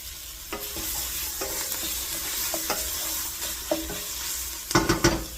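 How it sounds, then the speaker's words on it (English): A spoon stirs diced vegetables and roast in a pot of vegetable soup, giving off scattered scrapes and clinks against the pot over a soft, steady background hiss, with a burst of sharper knocks near the end. "I'm just going to give it a little stir"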